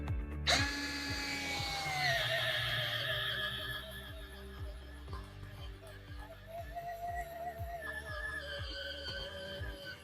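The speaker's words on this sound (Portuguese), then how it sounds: "Parafusadeira mundial, modelo PI 10MA, 20 newtons. A mesma broca de 16 mm." A Mundial PI 10MA cordless drill runs with a 16 mm bit, a loud steady motor whine with shifting pitch and rhythmic grinding pulses throughout, close by with no speech.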